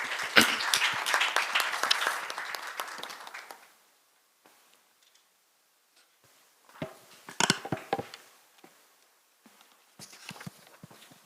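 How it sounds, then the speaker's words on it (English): A conference audience applauds a speaker in a short burst of clapping that stops abruptly. Scattered faint claps and small sounds follow after a quiet gap. "Jerome Kim with big applause"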